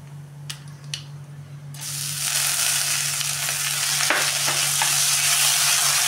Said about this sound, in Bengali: হালকা করে ভাজবো, বেশি ভাজবো না।